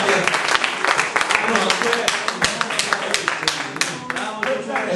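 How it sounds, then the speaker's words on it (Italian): A crowd at the inauguration of a new boxing gym in Italy applauds, with lively, uneven clapping that rises and falls while voices talk over it. "un applauso anche..."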